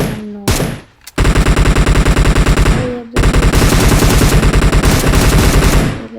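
Rapid automatic gunfire from the battle-royale game PUBG rattles out in two long, loud, evenly spaced bursts separated by a short pause, with a brief shot and clatter before them and no voices.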